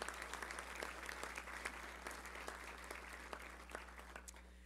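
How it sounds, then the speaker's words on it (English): A Little Rock Touchdown Club banquet crowd applauds the club team, steady, faint clapping with scattered sharper claps over a low electrical hum. "Let's give all of our Touchdown Club team a round of applause."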